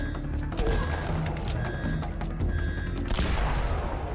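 Sniper rifle gunshots in the mobile shooter game Sniper Fury form a dense, loud run of cracks and booms over constant game noise and music, with no speech.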